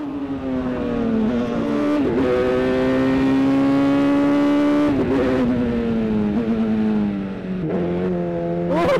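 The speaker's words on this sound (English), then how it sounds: "Here's a few corners with me attempting to demonstrate to you the reactivity and sound of the car" Extreme lightweight 2024 car revving hard through a series of corners, loud close engine note climbing steadily, with brief dips and blips between gear changes and turns.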